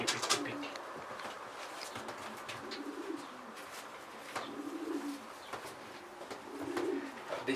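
A pure Stichelbaut racing pigeon in a loft coos softly and repeatedly at close range, with low rolling calls coming in bursts over light scuffling and a brief flutter, and no talking.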